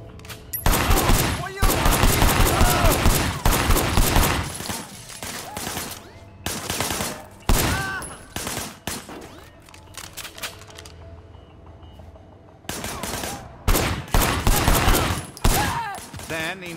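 Bursts of gunfire from the video game Sleeping Dogs: Definitive Edition, loud rapid volleys of shots in clusters with a quieter lull in the middle before more firing erupts near the end.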